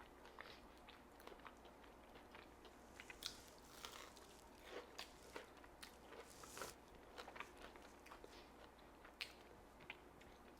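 Crisp bites and crunchy chewing of extra-crispy fried plantain tostones made with a soaking technique, a steady run of close, sharp crackles over about ten seconds with no talking.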